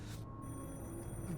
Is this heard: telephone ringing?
yes